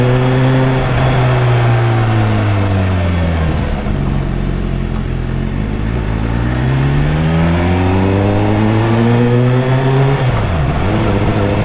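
Motorcycle engine running steadily while riding, its pitch rising and falling as the rider speeds up and slows down, loud and close throughout with no talk.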